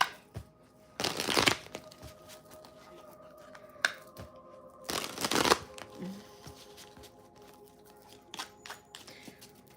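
Tarot reading cards are shuffled in two loud, riffling bursts with quieter taps and handling between them, close up and with no talk.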